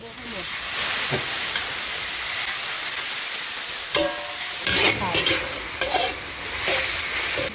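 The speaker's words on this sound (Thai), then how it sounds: "ตอนนี้เราผัดเส้นนะคะ" Wide rice noodles stir-fried with pork and garlic for Thai pad see ew hiss and sizzle loudly and continuously in a hot pan, broken by repeated scraping and tossing strokes of a spatula.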